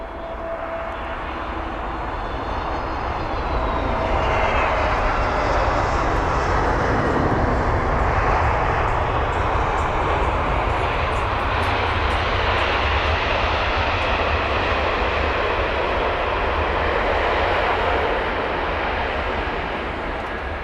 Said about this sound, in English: So this is Air Malta, A320neo with a reg 9 Hotel November Echo Oscar, or 9H Neo.